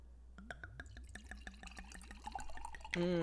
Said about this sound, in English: It's a snap, and here's the pour.